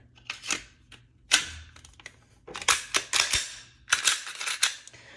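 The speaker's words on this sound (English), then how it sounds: "so kind of standard Glock, mushy trigger, wall, and then break, reset" Sharp mechanical clicks come from a Glock 34 Gen 5 handgun as its trigger is pulled and reset, several crisp, close snaps in uneven clusters with quiet handling noise between them.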